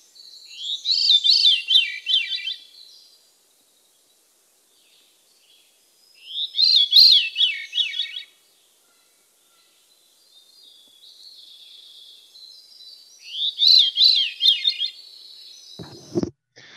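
A veery sings three separate phrases of fluting, downward-spiraling song, each about two seconds long, with quiet pauses between them and a brief low knock near the end.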